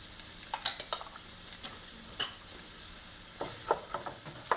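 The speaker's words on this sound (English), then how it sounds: "I'm going to sweat the onions with the carrots and the celery all together." Chopped onions, carrots and celery sweat in olive oil over a high flame, a constant sizzle broken by scattered clicks and scrapes of stirring, close and moderately loud, with no voices.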